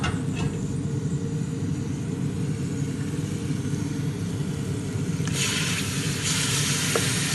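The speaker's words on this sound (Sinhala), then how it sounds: "මෙන්න මම මස් ටික දාගන්නවා. ඔන්න මම මස් ටික දාගත්තා." Chicken pieces hit hot oil in a pot for curry, setting off a loud, steady sizzle that runs throughout, with a brief brighter hiss burst partway through and no talking.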